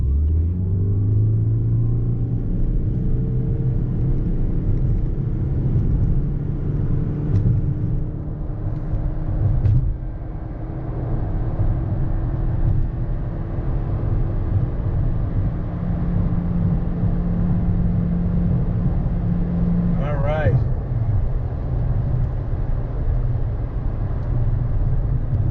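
A Toyota Prius Prime with its petrol engine forced on accelerates hard from rest to 60 mph in Eco mode, a steady loud droning rumble inside the cabin that holds level for the whole run, with one brief tonal whine late on.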